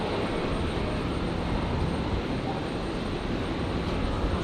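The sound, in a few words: Jetstar airliner landing on runway 01 right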